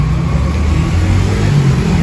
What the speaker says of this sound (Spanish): hoy andamos en camioneta